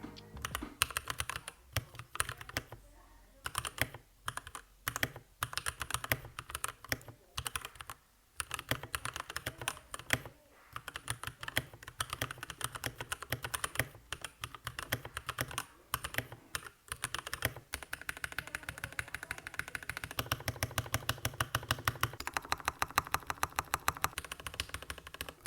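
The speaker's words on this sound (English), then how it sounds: "They do have Gateron blue switches, but they're very clicky, like very, very clicky." A mechanical keyboard with clicky Gateron blue switches is typed on steadily and up close, giving a long run of sharp, rapid clicks with brief pauses between bursts.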